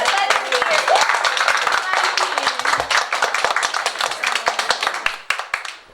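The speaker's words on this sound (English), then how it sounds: "So let's give them a round of applause." A room claps for saxophonist Blue Lou Marini and pianist Ray Reach, loud at first and thinning to scattered individual claps, with a few voices talking over the tail end.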